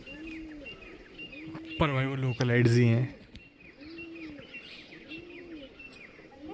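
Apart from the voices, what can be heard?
pigeons cooing at Bhangarh fort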